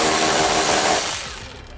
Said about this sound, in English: I'm going to be using a 10mm socket to remove them.